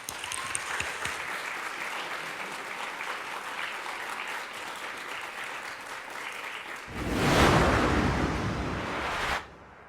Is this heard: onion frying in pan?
no